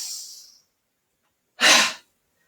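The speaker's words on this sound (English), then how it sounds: "breathing out strongly and emptying out with a ha sound" During a yoga breathing exercise, a short airy breath fades out, then after a silence a forceful, close-miked exhalation with a breathy ha bursts out and cuts off after under half a second.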